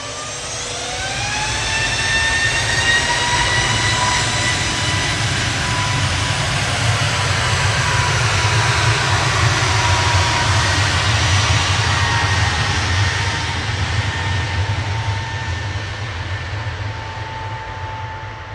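A jet airliner departs Manchester Airport bound for Ibiza, a loud, sustained engine roar with a rising whine that holds steady for the full length and eases slightly toward the end, with no talk.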